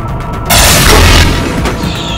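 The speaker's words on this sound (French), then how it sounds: "Ah, c'est ça, ça explose." A sudden heavy boom from an explosion in SteamWorld Heist bursts in loud and close, then holds as a dense roaring blast before slowly trailing off.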